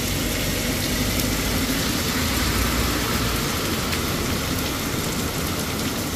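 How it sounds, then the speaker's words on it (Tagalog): Heavy rain pours down in a steady, dense hiss, with a low rumble underneath throughout. "Ang lakas ng ulan."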